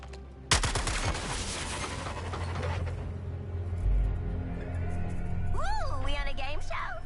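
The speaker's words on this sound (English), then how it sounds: "Might be able to get up top if we shoot the junction box." Sharp burst of gunfire at a junction box in Suicide Squad: Kill the Justice League, a sudden loud volley followed by rattling mechanical clatter and lingering noise, with character voices speaking near the end.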